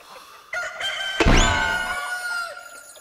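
A rooster crows once in the POLDA 6 video game, a loud, drawn-out call that rises and falls over clucking, shown clearly in the foreground with no talk.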